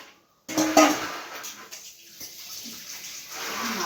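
Food being washed in a bowl of water by hand, with close splashing and sloshing and a few light clinks of a pot or dish, continuous and moderately loud.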